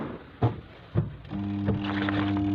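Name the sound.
washing machine spin motor making noise without turning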